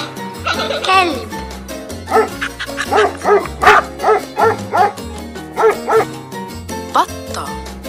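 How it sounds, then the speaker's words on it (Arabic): A dog barks repeatedly in quick, rhythmic bursts, close and loud, over upbeat background music, after a short whimpering sound at the start. "كلب"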